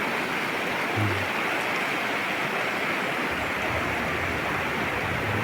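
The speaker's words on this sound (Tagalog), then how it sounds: "Bantak River. Pakalinaw ng tubig." The Bantak River in Cotabato, a clear river, rushes past in a steady, continuous hiss of flowing water with no voices over it.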